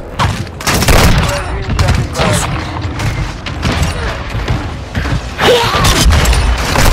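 Loud, dense bursts of gunfire and booming explosions from Call of Duty: Modern Warfare 2 on the Shipment map, rattling in rapid clustered volleys with shouted voices mixed in among the shots.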